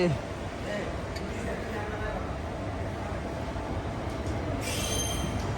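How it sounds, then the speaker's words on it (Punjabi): A train departing from Bargarh Road station rumbles steadily with rolling wheel noise and a brief high squeal near the end, continuous and fairly loud. "ਚੱਲ ਪਈ ਆਪਣੀ ਟ੍ਰੇਨ"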